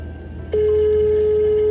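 A steady single-tone ringback starts after a brief click and holds unbroken to the end, heard while placing a phone call, clear and close over a low background hum.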